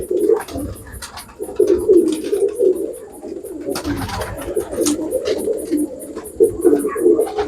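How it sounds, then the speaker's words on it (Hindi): A Teddy pigeon coos in repeated soft, throaty phrases, close and fairly loud, with a steady high whine in the background. "ये टैडी ओरिजिनल टैडी कबूतर है"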